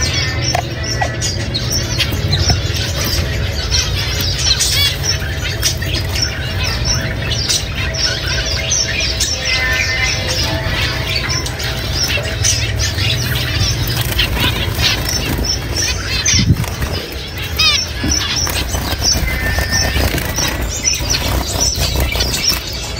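Pet birds, ornamental finches kept in cages, chirp and tweet continuously at close range, a busy layered chatter with no talking.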